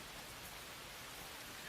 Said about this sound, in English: We have to tolerate the rain.